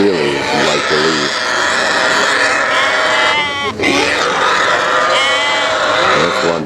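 Sheep and other livestock bleating and grunting at Otavalo's outdoor animal market, several loud overlapping calls close by over constant crowd chatter and talking voices.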